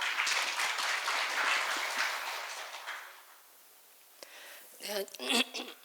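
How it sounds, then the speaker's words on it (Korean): A room full of people at a healthcare industry labor-management meeting claps for a few seconds, the applause fading out before a voice begins speaking. "힘찬 박수 부탁드립니다."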